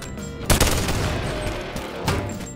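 Gunfire in the VR video game Bonelab, two sharp close shots about one and a half seconds apart over a dense, noisy background of game ambience.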